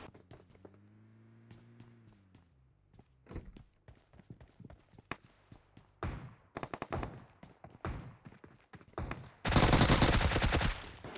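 Gunfire in PUBG Mobile: scattered single shots and short bursts build into rapid, dense volleys, with a low droning hum at the start and a sustained loud burst of automatic fire at the end.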